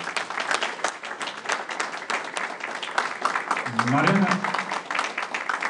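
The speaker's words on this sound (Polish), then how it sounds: "Także wielkie brawa dla pana Stanisława Tymińskiego." Applause from an audience at a Polish community meeting in Toronto rings out in a dense, steady patter while a voice briefly speaks over it near the end.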